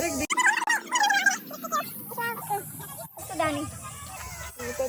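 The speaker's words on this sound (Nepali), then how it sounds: "के खालको कुखुरा हो यो चाहिँ" Hens clucking close by in short, rising bursts, mixed in with people talking over them.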